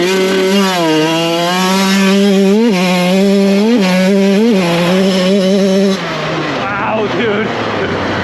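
A 2024 GasGas 125 two-stroke dirt bike revs hard on a second-gear start, loud and close, its buzzing engine pitch climbing through repeated surges before dropping off near the end.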